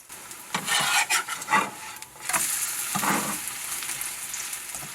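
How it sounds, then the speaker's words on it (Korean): A spatula spreads and flips a thick gamtae seaweed and flour pancake in an oiled frying pan, with close scraping strokes over a steady, loud sizzle of frying that runs throughout. "걸쭉한 감태 반죽을 뒤집개로 납작하게 펼쳐주고"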